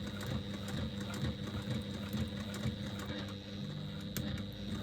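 A sewing machine runs a back stitch along the long edge of a woven bag, a quiet steady mechanical whirr with light rapid ticking, continuous and fairly distant, with no talk.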